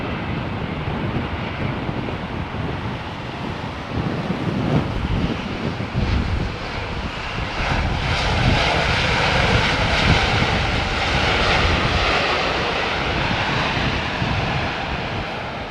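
Finnair aircraft at London Heathrow Airport, a steady roaring jet engine rumble mixed with wind noise that swells slightly mid-way and stays loud throughout.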